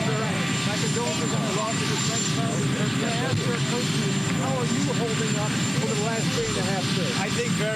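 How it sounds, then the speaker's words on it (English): Helicopter rotor and engine noise from an aircraft overhead during an outdoor news interview with Trump, a loud continuous drone filling the whole clip beneath talking voices. "this news outlet has chosen to interview Trump under a helicopter."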